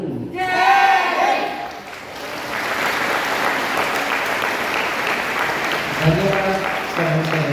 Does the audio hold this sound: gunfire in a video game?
no